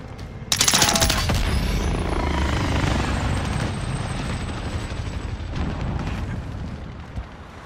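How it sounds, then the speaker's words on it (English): Attack helicopter in a military shooter video game, a loud sustained rotor roar starting abruptly and holding steady throughout, with dense broadband rumble and some sharp bursts suggestive of gunfire mixed in. "Enemy attack chopper is in the AO."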